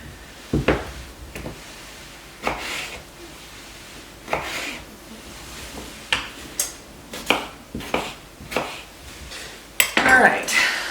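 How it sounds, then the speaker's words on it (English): Knife chopping unpeeled potatoes into pieces on a board in a home kitchen, a series of sharp knocks and scrapes spaced irregularly, some clustered, with light clatter between cuts. "So I'm just going to cut these potatoes up in pieces."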